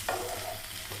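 Pointed gourd and potatoes fry in oil in a pan, a faint, steady sizzle with a brief stirring scrape near the start, heard alone.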